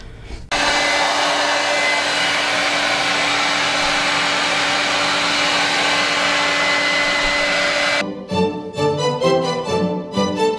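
A handheld hair dryer blows steadily and loud for about eight seconds while drying hair, then cuts out, leaving short bursts of clattery handling noise.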